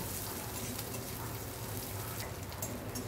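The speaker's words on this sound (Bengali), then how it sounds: "পেঁয়াজটা দিয়ে পেঁয়াজটাকে হালকা করে ভেজে নেব।" Thinly sliced small onion frying lightly in a pan, giving a steady, soft sizzle and crackle that runs evenly throughout with no talking.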